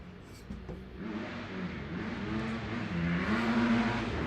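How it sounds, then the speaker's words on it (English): A motorcycle engine hums in the distance, growing steadily louder and rising in pitch as it passes by. "I see that motorcycle"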